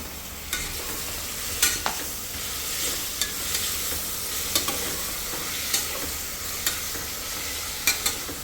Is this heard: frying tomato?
yes